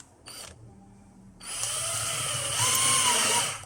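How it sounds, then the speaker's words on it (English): A power drill bores into a multigym part clamped in a vise, with a short spin-up, then a loud, steady high whine close by that rises slightly in pitch before winding down. "when you're drilling, the drill tends to snatch and try and pull it through"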